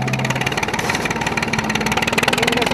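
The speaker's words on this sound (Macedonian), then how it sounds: "плацкање со тракторот по селски пат" A tractor rolls along a village road near Podmol, its engine chugging in a steady, rapid pulse that stays close and fairly loud throughout, with no voices.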